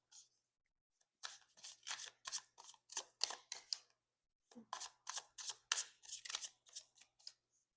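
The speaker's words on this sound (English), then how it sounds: "this deck here, you know, it's chunkier. It still shuffles pretty good." Shuffling a chunky Tarot of the Sweet Twilight deck in two bursts of rapid, crisp riffling flicks with a short pause between, close and fairly quiet, no talking.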